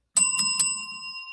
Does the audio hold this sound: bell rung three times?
yes